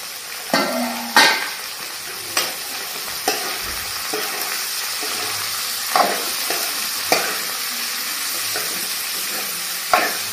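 Chopped onions frying over a low flame with salt in a pan for a prawn and egg fry curry, a continuous sizzle broken by repeated louder scrapes and clanks of stirring, close and without talk.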